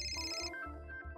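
A phone's ringtone sounds for an incoming call in a Marathi TV drama scene, a short, quiet melodic electronic chime of a few repeating tones.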